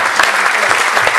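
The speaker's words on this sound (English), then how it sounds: "Give him a clap offering." A church congregation gives a clap offering, a loud dense burst of applause from many hands filling the room.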